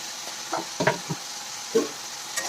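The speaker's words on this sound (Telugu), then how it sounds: "మటికాయలు వేసాక ఇలా కలబెట్టుకుంటా ఉండాలి" Cluster beans frying in a pan are stirred with a utensil: a few short scrapes and knocks land irregularly over a faint, steady sizzle, with no talking.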